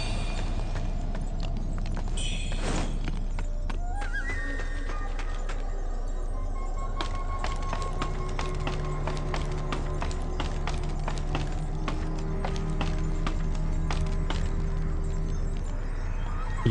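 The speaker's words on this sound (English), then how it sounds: "Look at the horsey" Horse hooves clip-clop steadily in the game Wuchang: Fallen Feathers, a rhythmic run of sharp taps from about four seconds on, mixed with game ambience and occasional tonal effects, no speech.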